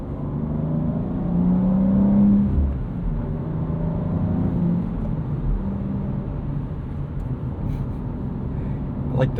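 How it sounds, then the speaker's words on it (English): Engine and drivetrain of a 2025 BMW M2 with a 473 hp six-speed manual, droning steadily between gear shifts with the throttle lifted, a continuous close rumble and whir inside the cabin. "I like the noise this makes between gears when you take your foot off the accelerator."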